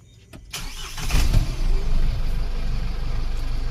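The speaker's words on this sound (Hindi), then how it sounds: "उसके बाद अपन गाड़ी को स्टार्ट करेंगे।" A Force Toofan vehicle's diesel engine cranks and catches, swelling from a brief mechanical clatter into a loud, steady close-up idle rumble with no talking.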